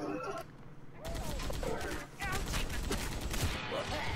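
Rapid gunfire from the video game Gotham City Impostors rattles in a dense, loud burst after a short pause, with a player talking over it.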